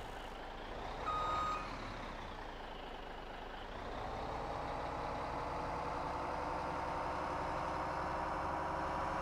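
A Peterbilt truck with a 600 horsepower engine drives steadily in Farming Simulator 17, a continuous loud engine drone with a brief beep early on, no talking.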